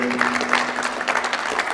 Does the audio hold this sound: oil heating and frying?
no